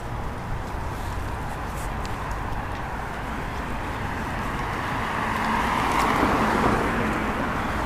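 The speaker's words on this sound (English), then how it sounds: "It's quite odd to see a Lexus driving down" A Lexus car drives down a quiet residential street of villas in Suji, Korea, a continuous rushing road and engine noise that swells somewhat louder toward the end, no talking.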